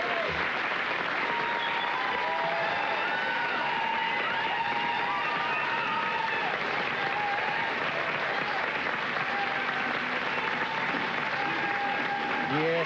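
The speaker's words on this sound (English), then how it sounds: "Quite a speech there from Kim Beazley, which drew applause in the tally room" Sustained applause and cheering fill the tally room on Australian federal election night 2001 after Kim Beazley's speech, a dense continuous clapping crowd with voices mixed in.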